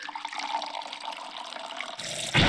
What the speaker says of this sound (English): You're pouring scalding hot tea all over me.